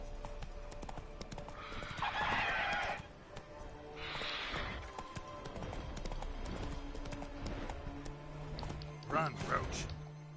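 Hoofbeats of the horse Roach galloping in The Witcher 3, a steady clip-clop rhythm with a couple of snorts and whinnies, while someone talks over it.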